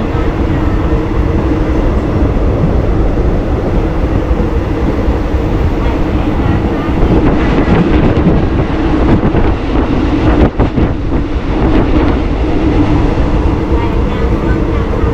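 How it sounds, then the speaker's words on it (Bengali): A local train running from Pattaya to Bangkok in Thailand pulls away with a loud, steady rumble and rattle heard from inside the carriage, with wind buffeting and faint talk in the background. "তো ট্রেন ছেড়ে দিয়েছে, দেখতে পাচ্ছ।"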